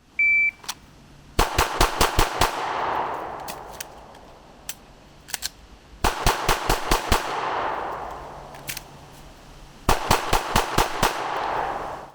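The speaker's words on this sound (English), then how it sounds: "Perform another combat reload and fire another 6 rounds into the chest box for a total of 18 total rounds" Handgun shooting drill with a combat reload: three loud, close bursts of about six rapid shots each, split by pauses for the reload, with sharp echoing reports and a few lone clicks in between.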